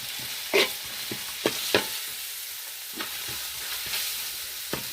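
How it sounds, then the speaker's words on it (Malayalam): Spice powders being stirred into pork fry in a pan for an Alappuzha-style dish, heard as a steady soft sizzle with scattered scraping and tapping strokes of a spoon against the pan, close and alone. "എല്ലാം കൂടെ നമുക്ക് ഒന്നിച്ച് തന്നെ ഇടാം എന്നിട്ട് നമുക്ക് നന്നായി മിക്സ് ചെയ്യാം"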